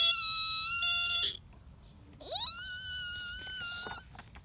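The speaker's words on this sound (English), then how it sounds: "When cars stop quickly, the brakes go." Car brakes squealing as a car stops quickly: two loud, piercing tonal squeals separated by a brief quiet gap, the second rising sharply at its onset before holding steady, with no voices.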